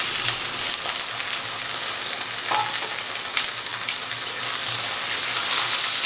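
Washed mutton frying with onions in a hot pan: a loud, dense, continuous sizzle with occasional stirring scrapes, close and without talk.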